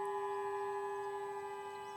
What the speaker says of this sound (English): You can hear the sirens going off.